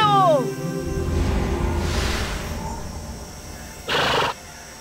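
Cartoon horse neighing: a short descending whinny at the start, followed by rustling movement and a brief burst of noise, with a voice speaking through part of it.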